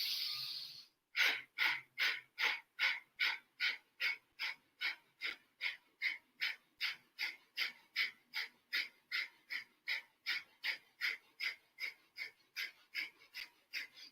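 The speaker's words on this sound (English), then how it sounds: "Let's just practice breath of fire briefly together." Rapid rhythmic breath of fire from a Kundalini yoga practice: a steady train of sharp, forceful nasal exhales, roughly two per second, close and loud, running continuously after a brief pause at the start with no talking.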